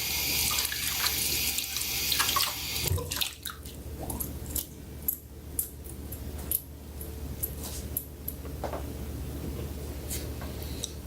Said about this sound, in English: I'm gonna wash my hand with soap.